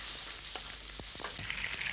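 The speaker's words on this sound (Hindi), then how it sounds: "शाही जीरा जब भुन जाए तब आप इसके अंदर डालें बारीक कटा हुआ प्याज, इसे भी हमने भूनना है" Finely chopped onions frying with shahi jeera (royal cumin) in a pan, a steady close sizzle and hiss with a few soft stirring scrapes, no voices.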